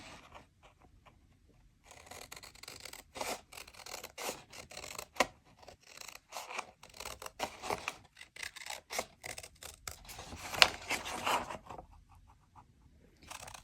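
Scissors snip through paper for a journal in a series of close, crisp cuts and rustles, irregular in rhythm, with short pauses between strokes.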